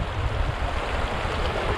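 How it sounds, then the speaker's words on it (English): A river rushing at a tricky crossing on the open North Pennines moors, a steady broadband roar of flowing water with wind buffeting the microphone, loud and continuous throughout. "I've got a river crossing here,"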